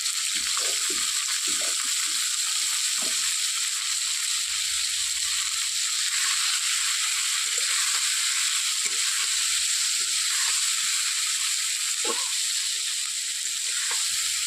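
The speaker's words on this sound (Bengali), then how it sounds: "ভালোভাবে হালকা একটু হলুদ দিয়ে দেবেন ভেজে" Food fries in oil in a pan with a little turmeric, a steady bright hiss with scattered soft pops and occasional stirring knocks, close and continuous with no talking.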